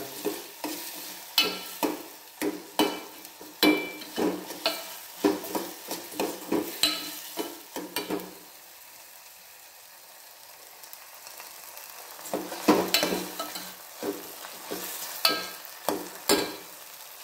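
Spices frying and being stirred in a pan for an okra-based rassa curry, giving rapid rhythmic scraping strokes over a constant sizzle, with a quieter pause midway before the brisk stirring resumes, heard close without voices.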